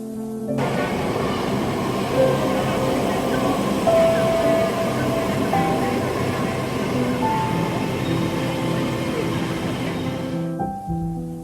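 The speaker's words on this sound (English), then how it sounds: "White trains race forward at speeds exceeding 186 miles per hour through cities, rocky mountains, deserts, and even frozen regions covered in snow." A high-speed train rushes along rail tracks in China, producing a loud, steady rumble with rolling wheel noise and faint high tones, sustained throughout before cutting off sharply near the end.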